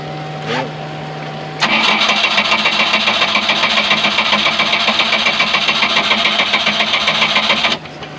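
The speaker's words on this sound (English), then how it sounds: "Should start and idle real nice, even cold, without any choke." A boat engine turns over briefly after a short blip, then catches at about 1.6 seconds and idles loudly with a steady rapid chug for six seconds before it shuts off near the end.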